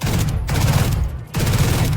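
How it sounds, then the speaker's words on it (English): The Odin machine gun in Valorant sprays in rapid continuous bursts, loud and close, with a brief pause before the fire resumes. "So the Odin, as we all know, is probably one of the best weapons to use when spamming a wall."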